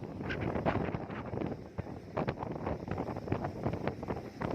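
Strong storm wind sweeps over a farm field where isabgol is being threshed, gusting in steady rough waves against the microphone, with no voices.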